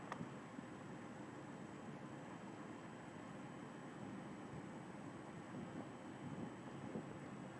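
A 12-inch General Electric Vortalex fan runs on low speed with a soft, steady whoosh of moving air, a faint broadband rush with a thin high whine, continuous and unbroken, with no talking.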